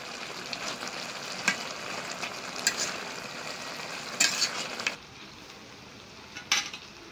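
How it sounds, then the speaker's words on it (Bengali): Khalisha fish frying in a pan, with a crackling sizzle and intermittent clinks and scrapes of a utensil stirring gently, close by with no voices, the sizzle thinning near the end. "মাছ ভাজা দিছি তো, একটা মাছও ভাঙবো না, সেভাবে নাড়াচাড়া করা যাবে।"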